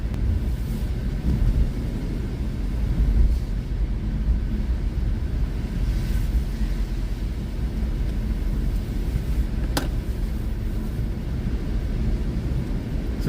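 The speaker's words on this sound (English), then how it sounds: "It is so windy." Strong wind roars during a snowstorm at Niagara Falls, a constant low buffeting rumble across the microphone that stays loud and unbroken throughout.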